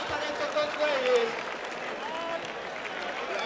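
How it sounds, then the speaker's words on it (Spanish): A crowd applauds and cheers at a Mexican rap battle, a dense, sustained roar of clapping, with a host's voice shouting over it near the beginning. "¡Aplausos para estos dos güeyes!"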